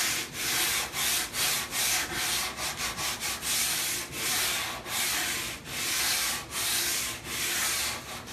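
Sandpaper held in the hand scuffs and distresses a painted furniture piece, making loud, close, rhythmic back-and-forth rasping strokes. About a dozen swipes are broken by brief pauses, and no one talks.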